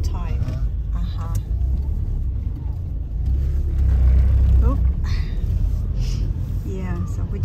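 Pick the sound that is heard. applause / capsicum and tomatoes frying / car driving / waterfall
car driving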